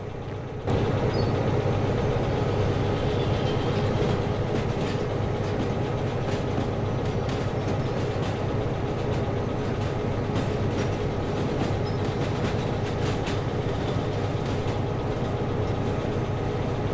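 A train rolls along steadily in the Derail Valley railway game, a continuous loud rumble of wheels and engine with faint clanks, no voices over it.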